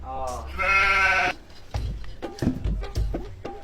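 A goat lets out one loud, wavering bleat lasting about a second, followed by a few close, indistinct voices in conversation.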